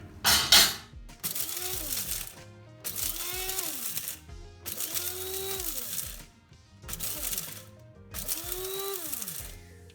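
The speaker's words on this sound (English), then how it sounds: "so now this is the wet grinding, so we're gonna use a blender and blend all this here." A kitchen blender wet-grinds roasted spices such as cardamom for a Malvani shrimp curry, running in five loud pulses of a few seconds each with whining pitch sweeps and short pauses between.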